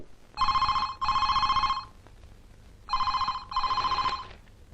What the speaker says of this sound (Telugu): ఆ ఫోన్ తీరా